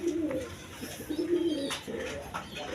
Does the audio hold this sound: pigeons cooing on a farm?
yes